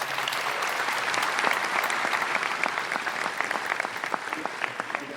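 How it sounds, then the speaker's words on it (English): Sustained applause from a graduation ceremony audience at a 12th grade graduation, a dense steady wash of many hands clapping throughout with no break. "I'd like to give them a special round of applause"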